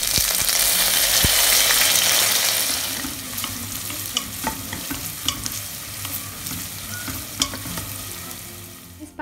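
Chopped onion sautéing in hot oil for mutton kabsa, a loud steady sizzle that softens after a few seconds, with scattered scrapes and taps of stirring throughout.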